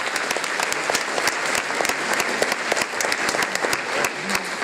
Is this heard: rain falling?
no